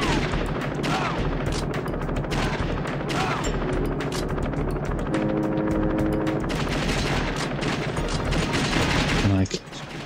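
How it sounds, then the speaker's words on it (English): Rapid continuous gunfire dominates in the Virtua Cop 2 arcade shooter on PS2, dense bursts over a droning helicopter, with a brief tonal game sound near the end. "I don't think I can destroy the helicopter."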